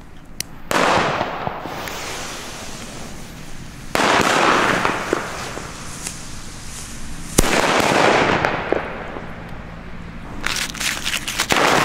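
Firecrackers set off at a New Year's Eve celebration, one relit after a misfire, burst in three sharp, loud blasts spaced a few seconds apart, each followed by crackling and echoing rumble outdoors.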